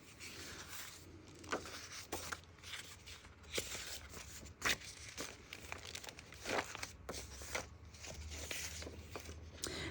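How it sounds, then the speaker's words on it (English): Paper pages being ripped and crinkled while making book signatures: close, quiet tearing and rustling with several sharper rips, no talk. "I'm going to rip a lot of these pages"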